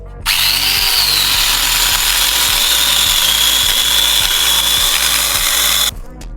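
A 125 mm angle grinder cuts through a thick log of firewood with a loud, steady, high-pitched whine. The sound runs continuously for about six seconds, then cuts off abruptly.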